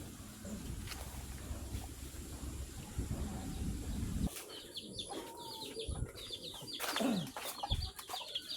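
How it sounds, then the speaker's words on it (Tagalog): Farm chickens in Liliw, Laguna cluck and call in short bursts over steady outdoor ambience, with wing flaps and bird chatter nearby and a low engine-like rumble fading early on. "May mga alaga silang mga manok."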